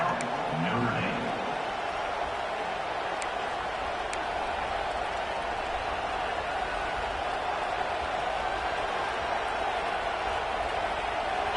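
A packed stadium crowd at a Notre Dame college football game roars in a steady, dense wash of noise, with a commentator talking over it throughout.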